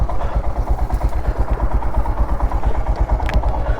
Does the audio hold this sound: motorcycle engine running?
yes